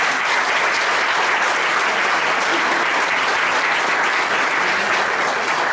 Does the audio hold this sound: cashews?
no